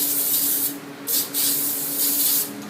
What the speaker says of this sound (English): And then you just want to spray that in there.